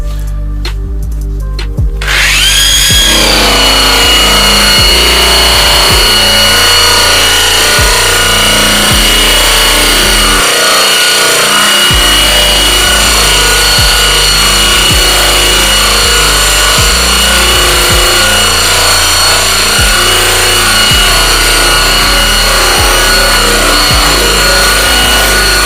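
Satin buff wheel (Easy Prep wheel) spinning at about 2,200 RPM and pulled backwards across metal to strip clear coat, a loud steady motor whine with rhythmic rubbing and grinding pulses running throughout, no talk.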